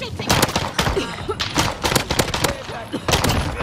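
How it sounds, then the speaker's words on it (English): Rapid close gunfire from the video game Warzone Pacific, dense irregular volleys of sharp cracks packed together throughout, loud and continuous over battle noise. "They're shooting."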